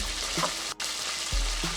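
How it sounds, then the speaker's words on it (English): Chicken frying in a pan, giving a soft, steady sizzle for a brief moment, with a light clink partway through. "So we still got some chicken frying."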